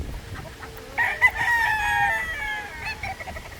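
Boston Black pullets outdoors give a drawn-out, clear cluck-crow lasting about two seconds, near and fairly loud, with a brief extra squawk near the end.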